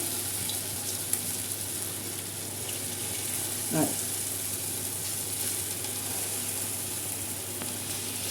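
Steady bubbling sizzle of lentil dumplings (bhalle) frying in hot oil like pakoras, an even continuous hiss throughout with a brief scrape of a utensil partway through.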